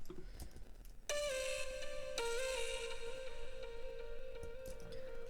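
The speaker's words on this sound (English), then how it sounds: "the delay sounds like this" A bright synth lead plays a couple of sustained notes, with delayed repeats trailing behind each one and fading out.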